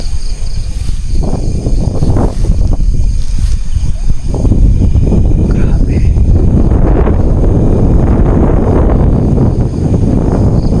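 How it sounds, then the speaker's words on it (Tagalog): Strong wind roars and buffets the microphone throughout at an abandoned house in a forest, with someone briefly speaking over the steady gusting rumble. "Ayan, mahangin pa oh."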